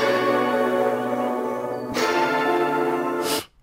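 A musical loop of ringing bell tones with sustained harmonic overtones, struck again midway, cutting off abruptly at the end.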